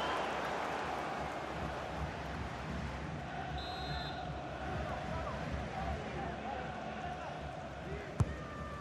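A stadium crowd in the football video game FIFA 23, Shanghai Shenhua against Club Brugge, keeps up a steady, dense roar throughout, with a single sharp knock near the end.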